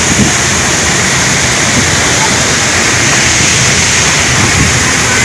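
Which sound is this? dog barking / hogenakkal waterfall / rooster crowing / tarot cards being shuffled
hogenakkal waterfall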